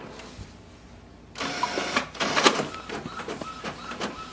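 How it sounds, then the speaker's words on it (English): An Epson WF-4830 inkjet printer prints a document. A quiet hum gives way to steady mechanical whirring and clicking as the paper feeds through, and it stays close and fairly loud. "to print, click on the print document and click on the print button"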